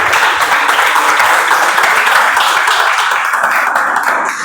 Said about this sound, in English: Let's give one more round of applause because of the entire list of questions.